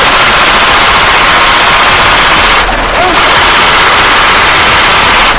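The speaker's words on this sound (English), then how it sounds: "Machine gun!" Loud, continuous automatic gunfire from a video game, bursts packed densely across the whole stretch with only a brief dip partway through, heavy and sustained under excited shouting.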